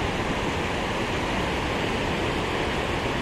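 Harajiri Falls in Japan, a waterfall dropping abruptly from flat ground, gives off a dense, steady roar of falling water that holds unbroken for over three seconds with no voices.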